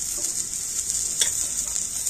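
Ginger-garlic paste sizzles in hot oil with ground coriander and cumin for a taro curry. A steady, bright frying hiss plays close by with no talk, marked by a brief sharper crackle as the paste is stirred.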